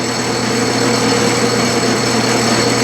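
Metal lathe turning at about 300 RPM with a lap held in the chuck, giving a loud, steady machine hum and whine that runs unbroken from start to finish.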